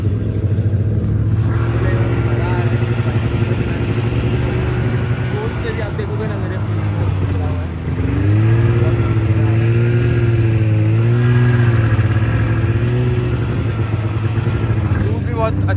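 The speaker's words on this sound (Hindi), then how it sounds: "मैं स्नो बाइक पर बैठा हूँ" A snow bike engine idles and revs steadily at close range in falling snow at Gulmarg, Kashmir. The drone holds a constant pitch, then rises and wavers through the middle, with no gaps along the way.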